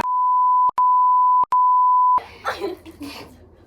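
Steady electronic beep tone, three long continuous beeps separated by brief gaps, loud and clean, followed by a cough and light voices from a school podcast.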